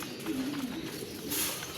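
Soft, low pigeon cooing repeats over a steady background hum, close and continuous, with no voices.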